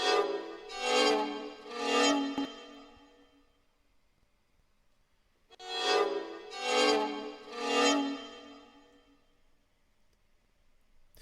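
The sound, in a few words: violin playing a dissonant chord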